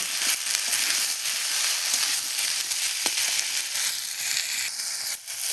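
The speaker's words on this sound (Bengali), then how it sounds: "এবার ভাজা সবজিগুলোকে তরকারির মধ্যে দিয়ে দিলাম। এবার এটাকে নেড়ে নেব।" Fried mixed vegetables sizzle steadily in a Bengali curry as they are stirred, with crackling spatter and occasional scraping knocks of the spoon close up.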